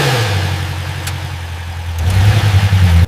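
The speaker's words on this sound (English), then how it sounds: "Exhaust flap actuation tested at idle and rev." A BMW X3 engine idles with a steady low drone during an exhaust flap test at a factory, then revs up sharply near the end, growling louder and choppier.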